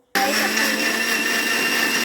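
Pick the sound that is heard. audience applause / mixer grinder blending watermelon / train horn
mixer grinder blending watermelon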